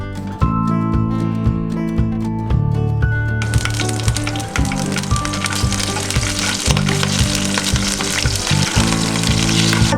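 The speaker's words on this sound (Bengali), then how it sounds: "মাছগুলোকে এক এক করে তেলের মধ্যে দিয়ে দেবো।" Hilsa fish slid into hot mustard oil, giving a loud, steady sizzle that swells sharply as the pieces go in, with clinks and stirring bumps over the frying and no talking.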